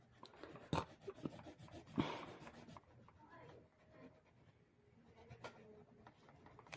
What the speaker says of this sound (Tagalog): pwede na nating burahin yung mga outline na gamit ang pencil